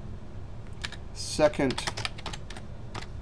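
Steady clicking of a computer keyboard as someone types while working in Excel, close and fairly loud, with a person speaking over the keystrokes.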